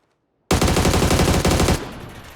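Rapid automatic gunfire in PUBG bursts in suddenly after a short silence, a loud, close, continuous rattle of shots lasting over a second before tailing off into echoing decay.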